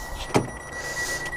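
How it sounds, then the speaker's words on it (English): The door of a Ferrari Challenge Stradale opens with one soft, brief latch click close up, followed by a quiet mechanical hum and faint rustling. "Open the door."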